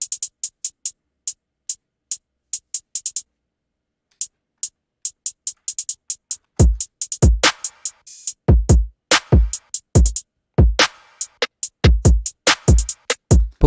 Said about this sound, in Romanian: Avem hi-hats care sună cam așa.